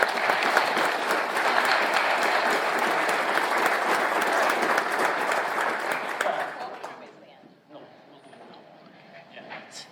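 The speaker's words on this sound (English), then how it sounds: "So one more round of applause." A round of applause at a Kenosha County Board meeting, a dense wash of clapping from the room that lasts about six seconds, then thins out and fades to scattered claps.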